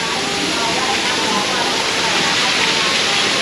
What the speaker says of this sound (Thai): อันนี้ก็เป็นน้ำตกนะครับนี่น้ำตกที่อยู่หน้าวังพญานาคฮะ